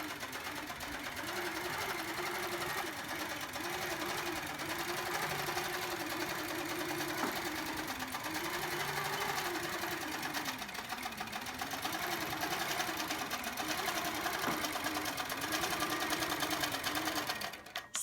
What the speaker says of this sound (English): I'm going to add a couple more before I start stitching.